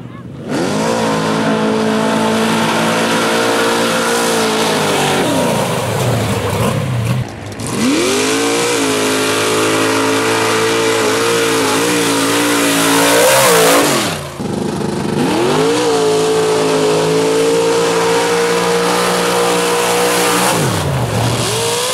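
Cars at mud drag races, loud engines roaring and revving hard in long sustained pulls, each rising in pitch before briefly dropping and climbing again, with several surges across the stretch.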